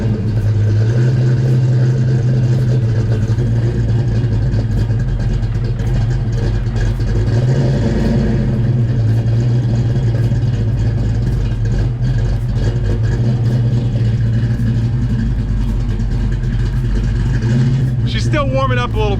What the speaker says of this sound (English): let me let you guys hear the cold start on this